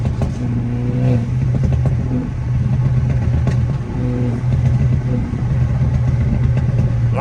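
A tuned stage 2+ BMW F30 is driven with its engine droning and rising and falling through revs, with uneven popping burbles from the exhaust and the heavy rumble of the moving car close by.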